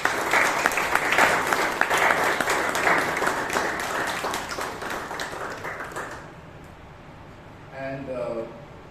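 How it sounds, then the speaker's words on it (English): An audience at a Toastmasters meeting in Bangalore claps in sustained applause that gradually fades away, followed by a brief voice speaking at the end. "Give her a big round of applause."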